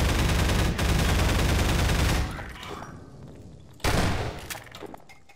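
AR2 pulse rifle from Half-Life 2 firing in long, loud, sustained bursts, a dense roar of automatic fire that breaks off briefly, then resumes in a second, shorter burst that tails away.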